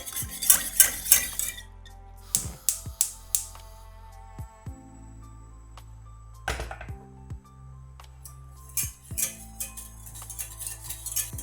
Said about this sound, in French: Dans une casserole, mettez le lait, la maïzena et la muscade et faites cuire le mélange à feu doux.